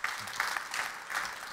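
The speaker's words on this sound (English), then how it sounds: "Big applause for Stefan." An audience at a trade fair talk on additive manufacturing gives quiet, distant applause, a soft patter of clapping that swells and fades briefly.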